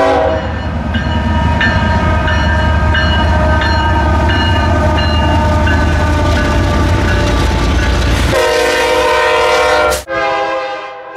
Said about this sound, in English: Here comes another southbound intermodal taking goods to Florida.